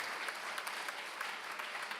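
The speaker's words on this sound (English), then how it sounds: "All right, round of applause." Steady audience applause welcoming a speaker onto the stage at a talk hosted with a refugee and immigrant services group, even dense clapping from a moderate distance for about two seconds.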